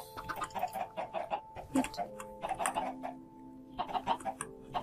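Chickens clucking in the video game Minecraft, a busy run of short rhythmic clucks and squawks in quick bursts, a brief pause, then more clucking, fairly close and clear with no talk over them.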